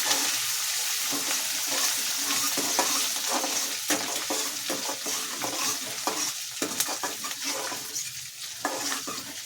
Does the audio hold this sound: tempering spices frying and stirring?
yes